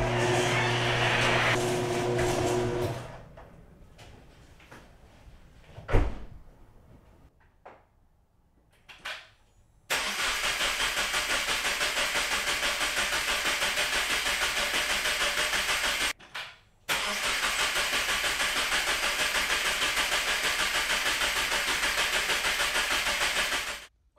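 A Subaru WRX engine cranks and fires for its first start after a turbo rebuild, a short struggle giving way to a loud, steady idle that holds close by, briefly cuts out, then resumes.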